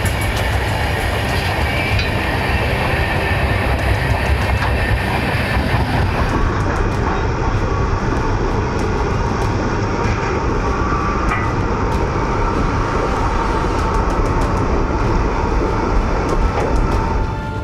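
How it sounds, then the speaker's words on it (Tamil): The Rayalaseema Express passenger train from Guntakal, recorded moving: a loud, continuous rumble of wheels and carriages with faint rhythmic clatter and no talking. "குண்டக்கல்லில் இருந்து ராயலசீமா எக்ஸ்பிரஸ் ரயிலில் சதீஷ்குமார் போன்ற 2 உருவ பொம்மைகளுடன் போலீசார் பயணித்தனர"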